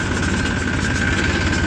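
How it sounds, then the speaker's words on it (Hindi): A tractor engine runs steadily in second gear on a village track, a loud, close, continuous diesel rumble with a constant mechanical drone and vibration throughout. "ट्रैक्टर जो है दूसरे गियर में चल रहा है"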